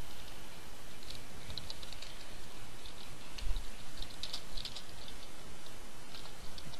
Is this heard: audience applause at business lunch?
no